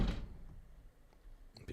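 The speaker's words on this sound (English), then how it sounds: "People slamming doors." A door slams inside the Ashes of Creation video game, one heavy thud at the start fading into quiet ambience, then a couple of faint knocks and a sharper click near the end.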